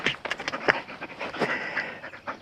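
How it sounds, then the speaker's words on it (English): A dog pants rapidly right next to the recorder outdoors by a sawmill, quick breathy huffs in a fast uneven rhythm, fairly loud with no talk over it. "that's my dog"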